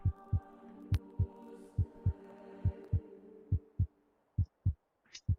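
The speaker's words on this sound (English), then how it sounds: "Let me turn that heartbeat off for you." A steady heartbeat sound effect from the VR game In Death: Unchained: about a dozen deep, evenly spaced thumps in quick double pairs over a low hum, close and clear, with no voices.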